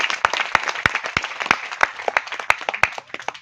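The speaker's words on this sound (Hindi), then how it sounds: "उसके लिए ताली बजाओ भाई जोर से।" An audience in a lecture hall claps at a teacher's prompt: a dense burst of sharp, fast handclaps, moderately loud and close, steady for a few seconds with no talking over it.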